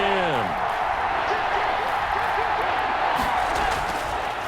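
A stadium crowd in the Madden NFL 21 football video game, Buffalo Bills versus San Francisco 49ers, keeps up a loud continuous roar and cheer, with a short rising whistle-like tone at the start.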